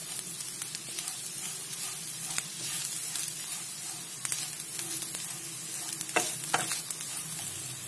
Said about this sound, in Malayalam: തേങ്ങ വഴറ്റിയെടുക്കണം.